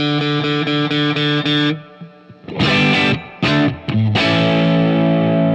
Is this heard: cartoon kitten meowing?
no